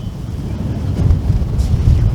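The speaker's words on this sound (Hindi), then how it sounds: "बहुत ही तेज़ हवा चल रही है," Strong wind buffets the microphone on a high hilltop at Kumbhalgarh fort, a steady loud low roar with gusts swelling toward the end.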